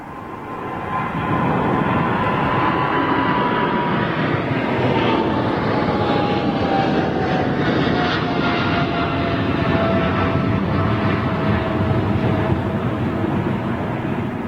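An airliner landing at London Heathrow, a loud broad jet roar that swells in at the start and holds steady, with a faint descending engine whine running across it and no speech.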